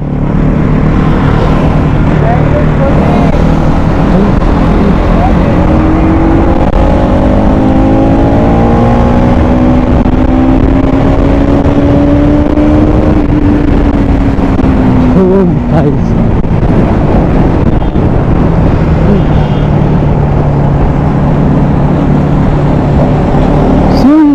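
Bajaj Pulsar NS200 BS6 motorcycles on a road ride, one stock and one with a fully modified exhaust, a loud continuous engine drone with rising and falling revs and heavy wind noise throughout.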